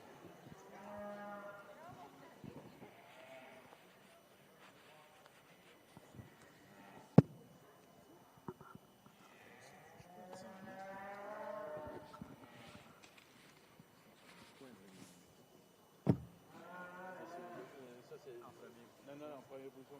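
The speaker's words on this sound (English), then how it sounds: "just an impressive class of Hereford heifer calves" Hereford heifer calves lowing now and then in a show ring at a cattle exhibition, faint and intermittent beneath an announcer and crowd talk, with a couple of sharp knocks.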